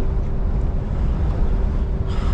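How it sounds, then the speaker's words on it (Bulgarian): Strong wind roars and buffets outside a truck cab, a loud, steady low rumble with gusty fluctuations and no voices. "Но има доста силен вятър."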